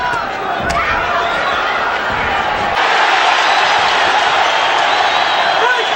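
Boxing arena crowd roaring steadily during the Pacquiao versus Barrera fight, a loud, dense wall of cheering with a swell partway through and commentary running over it.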